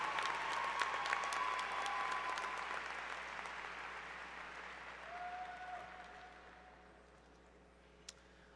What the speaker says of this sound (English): Could you give them a round of applause